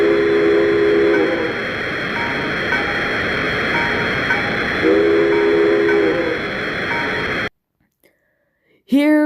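An S2 steam turbine locomotive running, giving a loud, steady roar with whistle-like tones that swell twice, then cutting to near silence with a brief faint sound at the end.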